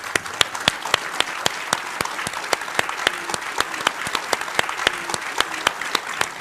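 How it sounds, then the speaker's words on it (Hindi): Studio audience applause welcoming guests onto a televised Hindi political debate set, a steady dense patter of clapping throughout, fairly loud and continuous with no talk over it. "सबसे पहले तालियों के साथ स्वागत कीजिए"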